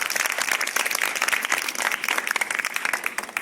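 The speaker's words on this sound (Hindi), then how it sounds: "जोरदार तालियों से इस्तकबाल कीजिए।" Dense, lively applause from an audience at a school quiz programme in a high school hall in Nagpur, with a crowd of hands clapping steadily and loudly throughout, no voices heard.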